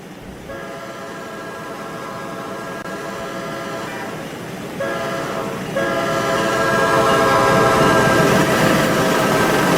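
A Roblox Amtrak Surfliner train runs at full throttle, its horn sounding in long sustained blasts with brief gaps over a steady rumbling rail roar that grows louder over time.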